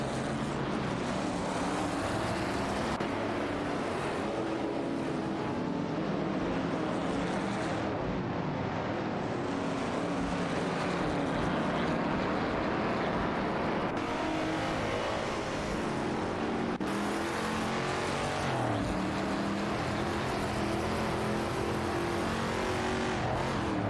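Race cars in an AI racing video game, including an Aston Martin Vantage and a Dodge Challenger R/T, roar continuously with engine tones rising and falling as they battle for position, loud and steady with no talk.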